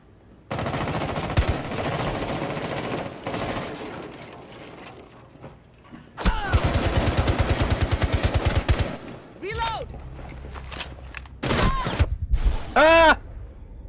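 Hibana's gun in Rainbow Six Siege fires in loud, rapid automatic bursts, one long stream and several shorter volleys, mixed with other close game sounds.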